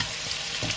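Shrimp and minced garlic hit hot oil in a pan, giving a brief, close, steady sizzle with a crackling hiss throughout.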